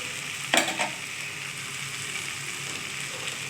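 Vegetables stir-fried with curry leaves and ginger in a pan, a steady soft sizzle with a brief scraping stir near the start, close and moderately quiet, no talking.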